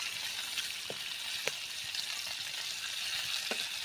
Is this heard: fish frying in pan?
yes